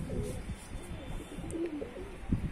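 Pigeons settling on a rooftop loft give soft, low coos in short bursts, near and gentle, over a faint background hiss and no clear speech.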